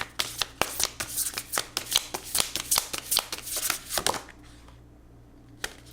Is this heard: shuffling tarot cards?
yes